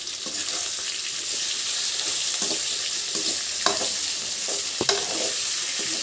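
Raw banana pieces and garlic frying in oil for an Andhra-style vepudu: a steady, even sizzle holds throughout, broken by occasional soft scrapes and taps of a spoon stirring in the pan, with no voices.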